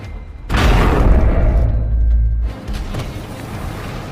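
Anti-tank gunfire pounding T-34 tanks in a war film: a sudden heavy boom that rolls into a sustained low rumble for about two seconds, then fades into lingering noisy battlefield roar.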